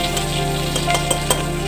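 Red chilies, green chilies and curry leaves frying in ghee make a steady, close, crackling sizzle with a few sharper pops, with no talking.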